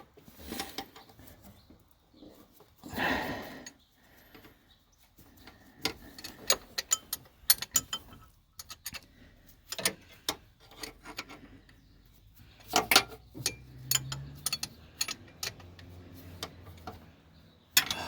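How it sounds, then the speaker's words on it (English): A 12 mm ratchet socket wrench works a bolt on a 2010 Toyota Yaris alternator belt setup, giving quiet scattered clicks and rasping ratchet bursts, close up and irregular, with pauses between strokes. "The top bolt, I use a 12 millimeter socket wrench"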